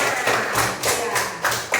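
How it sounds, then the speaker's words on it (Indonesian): Hand clapping from a group in an Indonesian classroom lesson, a few loose bursts of claps over about two seconds with some voices in the background, fairly close and moderately loud. "Kasih tepuk tangan."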